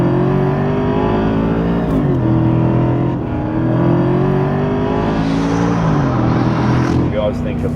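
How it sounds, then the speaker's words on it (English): Mercedes-Benz SLR McLaren V8 engine with a deep, guttural note that drops in pitch through shifts, loud and close, with faint talk near the end. "this has a very guttural American V8 sound"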